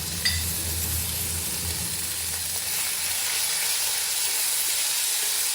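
Ivy gourd and potatoes fry in a hot pan with a continuous, fairly loud sizzling hiss that stays even from start to finish, with a faint clink near the beginning.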